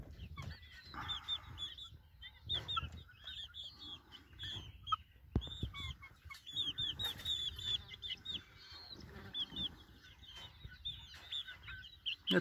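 Chickens, including a ginger rooster, cluck and squawk in a noisy mobile enclosure, with short calls scattered across the scene and faint rustling in between.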